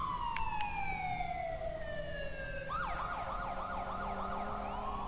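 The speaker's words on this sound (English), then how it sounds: "There's a police car right there." A police car siren in the video game Watch Dogs 2 sweeps down in a long falling wail, then switches to a rapid warbling yelp, loud and steady.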